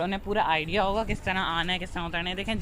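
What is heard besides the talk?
No everyday noise stands out behind the speech.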